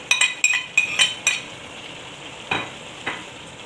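Tamarind and green chillies going into a hot pan of spices, with a few sharp metal clinks of a spoon against the pan in a quick burst, then two more scrapes over a faint low sizzle.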